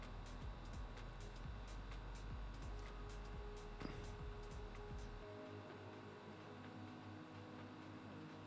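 A home air conditioner runs with a constant low mechanical hum and broadband whir, with faint scattered clicks. The low rumble drops away partway through while the lighter hum carries on. No one speaks.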